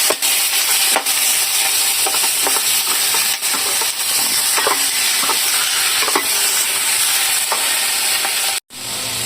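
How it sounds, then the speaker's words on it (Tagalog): Pork sizzles and crackles loudly in a hot pan with garlic and onion for pochero while a utensil scrapes and stirs at irregular intervals. "Paghaluin lang natin."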